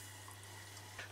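Water pours into a boiling vinegar pickling mix in a kitchen, a soft, steady trickle with a faint splash near the end, quiet under a low electrical hum.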